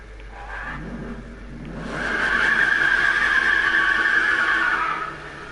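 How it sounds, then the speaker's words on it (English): A car engine in the video game Need for Speed 2015 revs hard and holds a loud, steady, rising roar for a few seconds before easing off, with a hint of tyre skid. "Hear the sound of that engine?"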